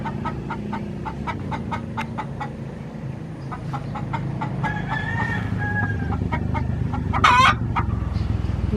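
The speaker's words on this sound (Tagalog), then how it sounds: "Ang ingay naman ng manok na yan." Chickens at a rural provincial house cluck in a rapid, steady series of close, loud clucks, with a brief louder squawk near the end over a faint background hum.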